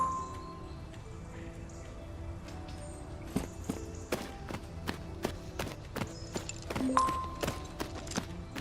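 Horse hooves clip-clopping at a walk in the Tales of Rein Ravine riding game, a steady series of soft, evenly spaced thuds over a quiet ambient background, with no talking.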